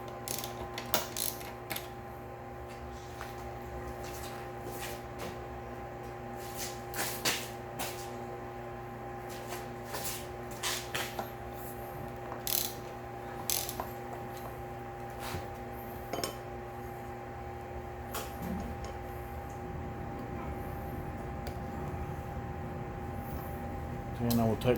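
A socket ratchet loosens the cable holder on a Mega Moto 212 minibike handlebar, giving scattered light clicks and clinks against a steady hum, with someone talking at times.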